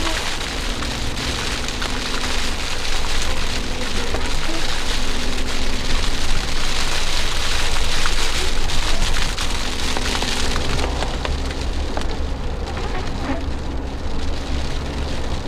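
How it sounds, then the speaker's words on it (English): Hail and rain pattering steadily on a Jeep during a cold mountain storm near Eagle Peak, Julian, California: a dense, continuous rattle of small hard hits, loud and close, with no talk. "A little bit of hail was bouncing off the Jeep there"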